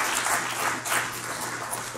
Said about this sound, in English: please applaud the counselors